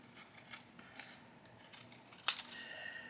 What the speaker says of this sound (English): So now I'm just going to cut it.